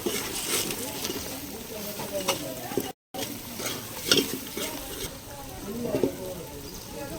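Masala stirred and sautéed in a pan for a village-style chicken curry, steady sizzling and frying with scraping stir strokes throughout, a brief dropout midway, with people talking over it.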